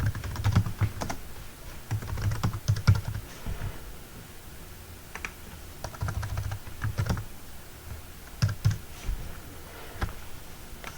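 Typing on a computer keyboard, with clusters of quick clicking keystrokes in short, uneven bursts and brief pauses between, close and fairly quiet.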